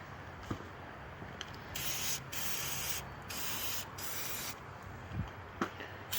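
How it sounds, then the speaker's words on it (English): Lubricant sprays in several hissing bursts of varying length onto the hinges of a dump trailer, close and fairly loud, separated by brief pauses and light clicks. "It's kind of a hard spot to lube up. Lube up all the hinges."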